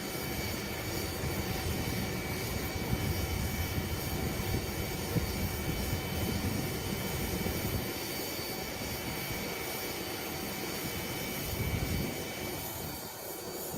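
Airplane engines roar inside a passenger cabin, a steady broad rushing hum with a faint higher whine that holds constant and loud, with no voices over it.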